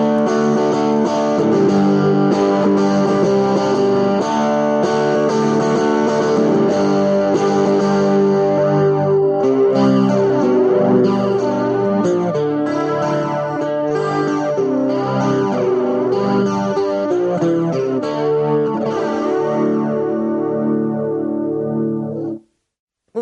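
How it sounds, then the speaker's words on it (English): An electric guitar played through a Vox DA5 amp rings out in sustained chords, first dry and steady, then switched to a swirling rotary-speaker effect with reverb for the second half, loud and continuous before cutting off abruptly. "I'm going to play it to you bypassed, and then I'm going to hit the effect knob here, and you'll hear it with a rotary simulation with some reverb."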